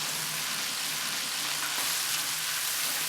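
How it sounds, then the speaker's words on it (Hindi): Boiled beef pieces fry in well-roasted masala, giving a steady, dense sizzle that holds loud and close throughout with no talking. "इसको 1 मिनट के लिए फ्राई करेंगे।"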